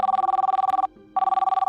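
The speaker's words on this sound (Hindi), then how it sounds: "खनक के फोन पर एक अनजान नंबर से फोन आया।" A phone rings loudly and close with an incoming call, a fast electronic trilling bell in two bursts separated by a brief pause, heard alone without speech.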